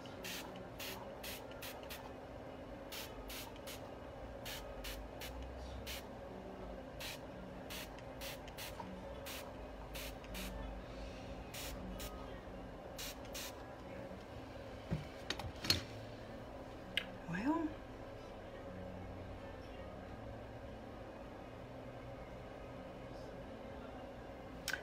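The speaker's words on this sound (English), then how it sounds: "These misters mist very soft, and that's the benefit of this instead of a regular squirt bottle" A fine mist spray bottle misting a painted canvas, giving many short soft hissing bursts, sometimes in quick pairs or runs, over quiet room noise with a few faint handling clicks.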